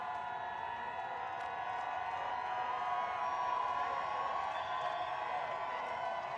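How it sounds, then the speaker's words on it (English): Crowd at the 2012 World Ultimate Championships women's masters final, USA vs Canada, cheering and whooping in a steady distant roar with no clear breaks. "And the crowd is excited here."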